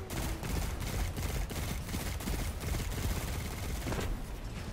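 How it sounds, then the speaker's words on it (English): Rapid weapon fire in Destiny 2 on the Inverted Spire strike rattles in repeated quick bursts, steady and close, mixed with dense game effects and no talking. "I keep on shooting this like it's a pulse rifle"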